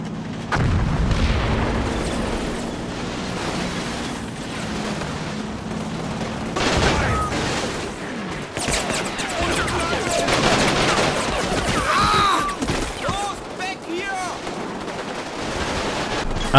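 Heavy gunfire and artillery rumble from a Combat Mission: Battle for Normandy battle around Argenteuil, with German MG 34 machine guns firing bursts from buildings against advancing Americans. The firing is dense and continuous, overlapping booms and rattling bursts, loud throughout.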